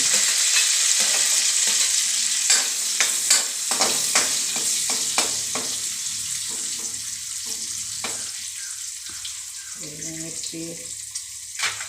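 Green chilies crackle and sizzle in hot oil for val papdi bhaji, a bright steady frying hiss with sharp pops and stirring clatter, loudest at first, then settling.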